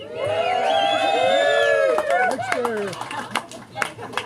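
A crowd at a surf legends environmental fundraiser greets the introduction of veteran surfer Mickey Munoz with whoops and cheers, followed by scattered clapping that thins out over a few seconds.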